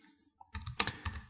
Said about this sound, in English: just try to type in Plantronics